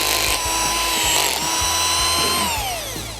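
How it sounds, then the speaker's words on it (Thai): A power drill bores into the hard red heartwood of a three-year-old huanghuali tree, with a loud steady motor whine and repeated ratcheting clicks as the bit grinds through the dense wood, then spins down at the end. "เจาะอีกหน่อยนะครับ ข้างในก็ค่อนข้างจะแข็ง"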